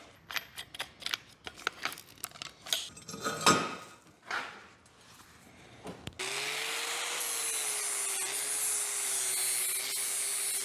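A flap disc deburrs the cut edge of a metal pipe in an abandoned backyard fallout shelter: rough rubbing strokes at first, then a steady, loud motor whine with grinding hiss.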